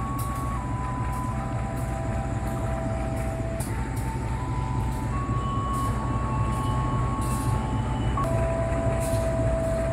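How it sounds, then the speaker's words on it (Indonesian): An Indonesian passenger train, the Matarmaja, rumbles steadily past as another train crosses it, with a high repeated beeping and some sustained metallic squealing over the roar. "Langsung melintas bersusul silang dengan kereta Mater Maja."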